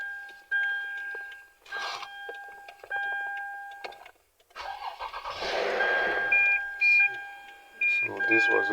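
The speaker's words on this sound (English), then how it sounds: "So this was able to start the car." A Lexus ES cranks and starts after key programming, its engine catching and settling into a running hum between electronic beeps and chimes from diagnostic equipment, with brief tonal alerts repeating.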